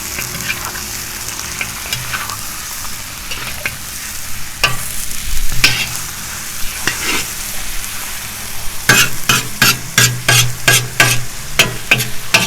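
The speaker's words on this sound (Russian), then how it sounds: "мясо обжарим. Потом добавим морковку." Meat and carrots fry in a kazan over a campfire, a steady close sizzle with scraping stirs and a run of rapid rhythmic clatters near the end.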